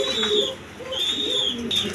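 Pigeons coo in soft, repeated throaty phrases at a pigeon seller's stall among many birds, with the calls rising and falling close by and a low murmur of activity underneath.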